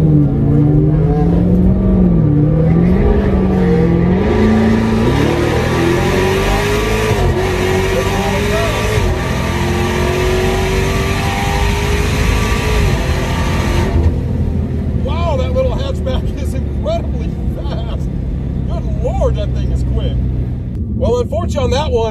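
A Dodge Demon 170 roll racing a small hot hatch on a strip, its engine droning loud and close with rising pitch as it accelerates, then the roar fades into wind and rumble while a person talks throughout.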